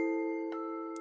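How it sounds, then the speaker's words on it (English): A shop door bell rings with a sustained, bright metallic tone that hangs steadily and slowly fades, with a couple of faint clinks near the end. "the bell of the door jingled"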